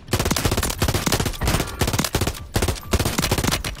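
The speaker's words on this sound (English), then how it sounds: "Tell me you're gonna shoot him." Rapid automatic gunfire in the video game Warzone 3, loud close bursts of shots in a fast, punchy rhythm with brief gaps between volleys, running continuously with no talk over it.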